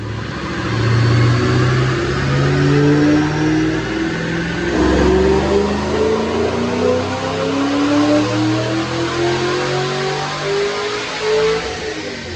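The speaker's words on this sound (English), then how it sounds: "Let's check out this dyno pull." A supercharged 2008 Ford Mustang Bullitt with a Vortech intercooled supercharger revs on a dyno, its engine note climbing steadily in pitch through a long, loud pull, with a brief dip partway and supercharger whine riding on top, no talk.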